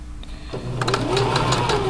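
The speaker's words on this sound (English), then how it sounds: "You're going to backstitch and you're going to tilt" A sewing machine stitches elastic into a waistband of boxers or pajama pants, starting quietly before breaking into a close, rapid run of stitching after about half a second, with a whirring motor and ticking needle strokes.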